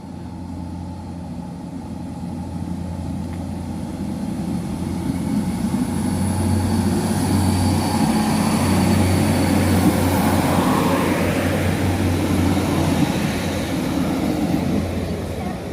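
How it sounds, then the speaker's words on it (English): A train departs Clipperstown station at dusk, a steady low engine rumble and drone that builds gradually and holds throughout, with faint hiss and a distant higher whine above it. "the train's about to depart."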